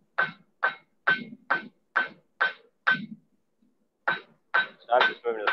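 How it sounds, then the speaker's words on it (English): A hammer strikes a tasting spoon on an anvil in a steady series of ringing metallic blows, seven evenly spaced hits, a short pause, then a few more quicker strikes with a brighter ring, close and loud. "I'm just moving to the flat face of the hammer and just smoothing it out"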